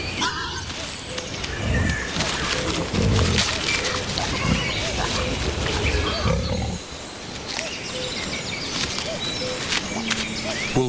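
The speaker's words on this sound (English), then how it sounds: "the wolf is woken by the sound of mushroom-digging boar" Wild boar rooting for mushrooms in the Chernobyl exclusion zone: steady, close rustling and snuffling with scattered low grunts and thuds from a digging herd, running unbroken throughout.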